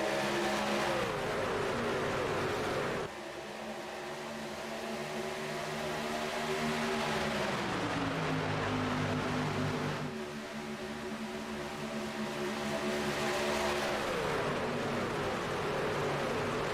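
Simulated race cars in the iRacing game roar away at the green flag start at Atlanta Motor Speedway, a continuous loud engine drone with rising and falling revs as gears shift, no voices over it.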